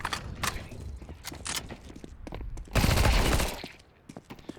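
Rapid gunfire bursts in Counter Strike 2, loud and close with sharp cracks, a dense sustained volley in the middle followed by scattered shots and footsteps.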